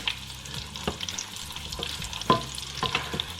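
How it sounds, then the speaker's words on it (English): Quail Scotch eggs fry in hot oil, a quiet steady sizzle broken by scattered pops and crackles, close up with no voices. "we're just going to fry these until they are a dark golden brown on the outside"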